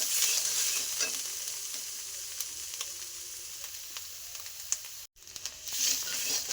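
Chicken filling with turmeric stir-fried in a pan for singara, a steady close sizzle with scraping stir strokes, a brief break near the end before the frying resumes.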